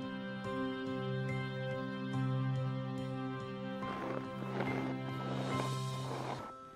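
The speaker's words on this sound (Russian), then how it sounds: "Лошадка мохноногая торопится, бежит." Hooves of a shaggy-legged horse trotting at a quick, even rhythm, steady clip-clops under bright sustained musical tones, fairly faint in the background.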